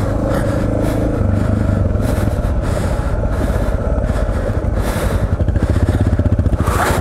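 A Suzuki DR650 motorcycle chugs and revs close by as it is paddled with the clutch open along a sandy railway track. Its engine note throbs steadily, rising and falling, with occasional thumps and clatter.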